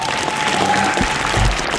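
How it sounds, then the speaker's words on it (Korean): A concert audience claps at a women's choir's annual performance in Geumcheon, a loud, dense wash of many hands applauding without pause, with a faint crowd murmur beneath. "큰 박수 한번 부탁드리겠습니다"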